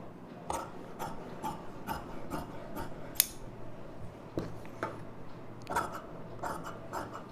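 Scissors snipping through fabric to cut a baby lining frock, a string of crisp, quiet close-up clicks and rustles in an irregular rhythm, with one sharper snap midway.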